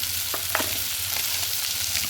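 Ginger-garlic paste fries in rendered fish oil, a constant close sizzle broken by a few quick stirring clicks.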